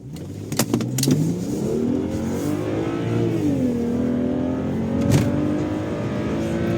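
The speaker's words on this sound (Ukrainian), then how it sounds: "Без всяких з місця стартуємо розгін до 100." A BMW 335 with the N55 engine accelerates from standstill to 100 km/h in normal drive mode, its loud, close engine note rising through gears with shift dips and a steady climbing drone, heard from inside with no talking.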